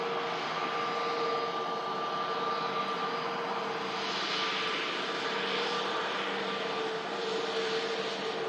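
Jet airliner departing Manchester Airport, a broad, continuous engine roar with a steady tonal whine, heard from a distance and sustained throughout without voices.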